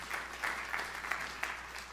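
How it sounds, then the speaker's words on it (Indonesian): Applause from a church congregation, a steady dense patter of many hands clapping at moderate level with a few sharper peaks, heard alone without talk. "Tepuk tangan yang meriah untuk kemuliaan."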